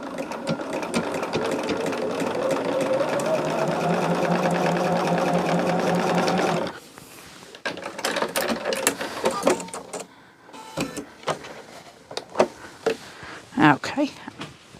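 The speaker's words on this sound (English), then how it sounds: "Now, I will sew this at 1/4 of an inch." A sewing machine runs a quarter-inch seam in a dense, continuous close-up whir for several seconds, then stops, leaving handling clicks and rustles of fabric.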